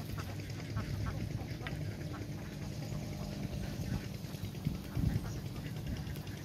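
A large flock of farm ducks in a countryside rice field quacks continuously in a dense, overlapping chorus, moderately close against an outdoor background.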